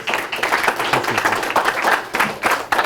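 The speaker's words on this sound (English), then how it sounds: "So give him a round of applause" An audience at a civics speaker series event claps in steady, moderately loud applause lasting a few seconds.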